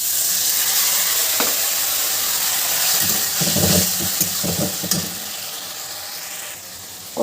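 Paneer and potato curry with spices frying in a pan, a steady hiss of sizzling oil throughout, with a few brief stirring clatters in the middle, close and fairly loud.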